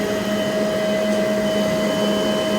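A vacuum pump pulling vacuum on a Carrier 30GX chiller after an O-ring replacement, a loud steady mechanical drone with constant tonal hum and no pauses.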